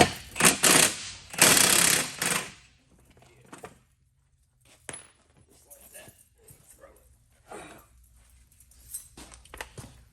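An impact wrench rattles loudly in two short bursts to break the front wheel bolts loose on a 2009 Nissan Altima, then falls quiet as a person talks.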